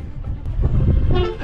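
A passing train sounds its horn, a sustained tonal blast over the heavy rumble and rolling noise of the cars, loud and close.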